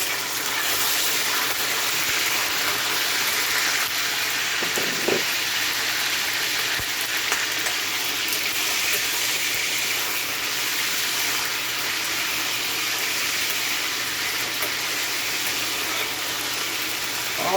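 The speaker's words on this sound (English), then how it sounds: "Now I'm gonna pour my onion in to fry." Onion frying in oil in a pan for ackee and saltfish, a steady close sizzle and crackle running throughout with a few small clatters.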